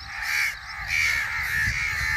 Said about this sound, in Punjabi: ਕਾਂ ਕਿਉਂ ਇੰਨੇ ਇਕੱਠੇ ਹੋਏ ਆ ਖੋਤੇ ਕੋਲ